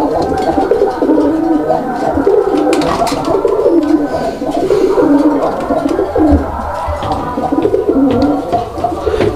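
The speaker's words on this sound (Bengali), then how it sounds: "এই নটটার ডাকের যে আওয়াজটা, এটা কিন্তু অনেক মোটা" A male deshi pigeon gives a deep, throaty cooing, loud and close, rolling on continuously with gargling pulses, and other pigeons faintly coo in the background.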